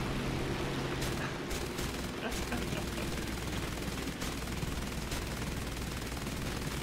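Rapid, dense machine-gun fire from War Thunder aerial plane combat crackles continuously at moderate volume, bursts blending into a steady rattle with engine drone beneath.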